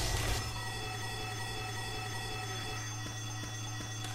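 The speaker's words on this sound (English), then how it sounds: "We have to turn off that alarm." A steady, continuous alarm rings in Left 4 Dead 2, a loud drone that fills the whole stretch, with faint sharp game noises joining near the end.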